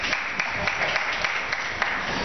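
Scattered, moderate applause from a student union audience at a DSU presidential election debate, with steady clapping at a middle distance for a couple of seconds.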